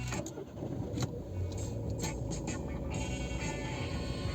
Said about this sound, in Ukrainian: Включаю запалення. Всі лампочки загорілись. Перевірилась система, те, що потрібно, потухло, заводимо.